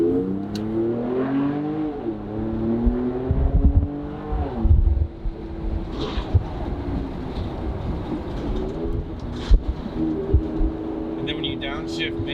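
A second-generation Ford Raptor fitted with a Borla Atak exhaust revs up and down, its engine rising and falling loud and close, with people talking over it.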